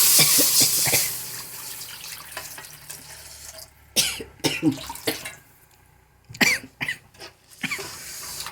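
Several sharp coughs and throat-clearing bursts from roasting chilli fumes in a kitchen, in clusters, close and fairly loud, with a brief hiss of running water early on.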